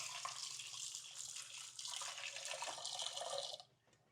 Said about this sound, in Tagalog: Ito yung oats. Hugasan lang natin.